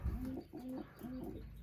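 Pigeons in a loft give three soft, rhythmic coos in close succession, quiet and nearby with faint background rustle.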